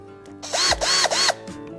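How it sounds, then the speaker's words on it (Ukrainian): Vitals Master AU 1825 cordless drill-driver from the SmartLine Plus series running in three quick bursts that rise and fall in pitch, loud and close, with no talk. "Він призначений для виконання різних завдань із свердлінням та закручуванням шурупів."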